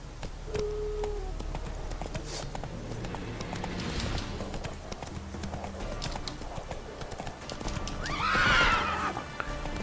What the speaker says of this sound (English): riding a horse across the countryside